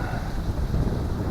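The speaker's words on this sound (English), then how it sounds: "It's windy" Strong gusty wind at a kite-flying field buffets the microphone with a steady low roar that swells in gusts throughout, close and loud, no voices present.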